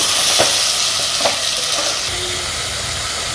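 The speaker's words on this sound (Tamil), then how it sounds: "அப்புறம் தக்காளியை கொஞ்சம் நல்லா வேக விடுவோம்." Ground tomatoes with ginger garlic paste frying in a pan, a loud crackling sizzle with a few clanks of a stirring spoon early on, settling into a steadier hiss.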